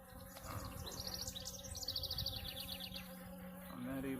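Swarm of bees clustered thickly over fresh comb they are building inside a dark swarm trap, a steady close buzzing drone with a faint voice at the end.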